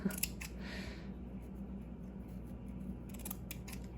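Scissors trim lace paper scraps for a collage, a few close, crisp snipping cuts at the start and again near the end, with quiet room tone between them.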